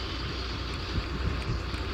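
A parked vehicle's engine idling, a steady low rumble with wind-like noise at an outdoor work spot in Ranchi, Jharkhand.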